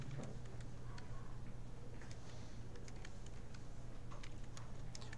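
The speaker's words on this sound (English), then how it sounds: "now I would have to type in all the letters" Rapid, light keystrokes rattle on a computer keyboard as letters are entered for a programming lesson, a steady patter of close clicks over a low background hum, with no talk.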